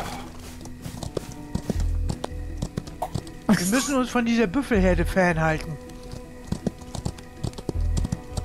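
Horse hooves clatter in a rhythmic clip-clop in the Old West video game Outlaws of the Old West, with repeated thuds under speech and a stretch of voices talking over them.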